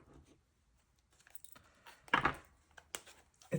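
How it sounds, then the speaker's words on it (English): Oversized tarot deck being shuffled, with soft scattered riffling and a few sharper card slaps and clicks, quiet and brief with gaps between bursts. "I'll see if I can shuffle it together,"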